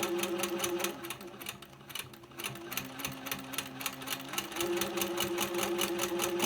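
A sewing machine stitches steadily in a rapid, even mechanical rhythm, close and loud, with its motor hum briefly easing in the middle before running on.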